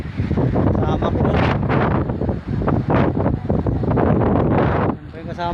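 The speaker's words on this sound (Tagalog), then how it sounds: "Grabe hangin." Strong wind roars and buffets the microphone continuously, loud and close, with gusts rising and falling throughout.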